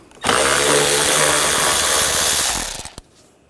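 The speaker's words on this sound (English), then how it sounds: "I'm going to use a 8mm socket. Take this bolt out." A continuous power-tool whir removes a bolt with an 8mm socket during radiator replacement on a 2008-2012 Jeep Liberty 3.7L V6. It runs loud and steady for about two and a half seconds, then winds down and stops.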